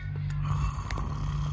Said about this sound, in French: Plus fort. Les ronflements.